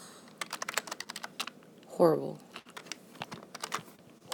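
Long fingernails click and tap rapidly on a computer keyboard at close range, in uneven bursts, while someone briefly speaks one word partway through.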